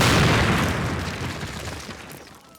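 A single loud grenade blast from the 2003 Call of Duty game, a heavy boom at the start that decays into a rumbling tail over a couple of seconds, with no voices.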